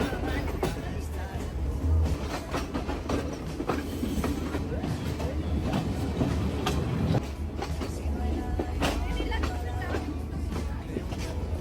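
A passenger train on the Kandy to Ella railway in Sri Lanka rolls along with a steady loud rumble and irregular clacks and rattles heard from on board, with no breaks.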